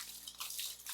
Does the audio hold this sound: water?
yes